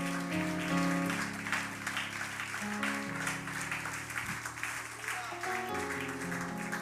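A church congregation stands and applauds during a sermon, steady clapping from a crowd heard under sustained organ or keyboard chords that play continuously beneath it.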